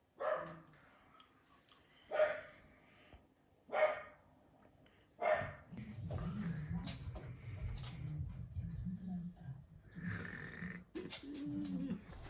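Several loud single dog barks spaced a second or two apart, close to the microphone, followed by a person talking with a rougher dog vocalization under the voice.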